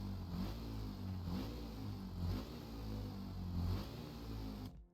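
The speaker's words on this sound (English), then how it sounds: "It just keeps revving high and high and high." In the Stormworks video game, a vehicle engine drones loud and steady at high revs, its pitch climbing and swelling in waves before cutting out abruptly at the end.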